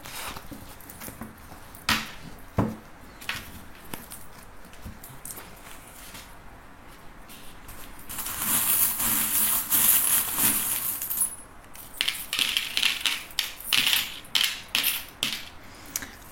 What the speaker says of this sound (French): je vais récupérer les cartes